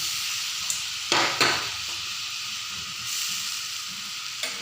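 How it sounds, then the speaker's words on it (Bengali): Fried potatoes drop into a simmering pan of curry with koi fish and bean seeds, setting off a steady sizzle broken by two sharp bursts of splashing and stirring near the start, with no voices. "এখন আমি এতে দিয়ে দেব, এতে আলুগুলি, ভাজা আলুগুলি দিয়ে দিচ্ছি।"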